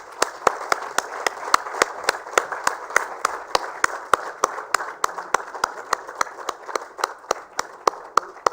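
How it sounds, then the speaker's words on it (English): Audience at a sanitation awards ceremony giving a round of applause, heard as sparse, evenly spaced individual claps in a steady rhythm rather than a dense crowd roar. "A big round of applause for the Center for Policy Research"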